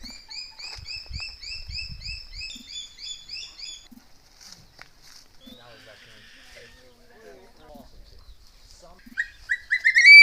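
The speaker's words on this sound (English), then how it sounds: "So this is a hawk eagle?" A hawk eagle at a raptor center in Belize gives a run of rapid, repeated high chirping calls, then falls quiet and ends with a few sharp, rising cries, with faint low background noise.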